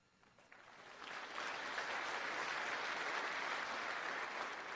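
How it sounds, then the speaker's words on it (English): Applause from a Tea Party convention audience swells from a faint start into a sustained, dense wash of clapping that holds to the end. "I'm going to have to learn to wait to let people applaud."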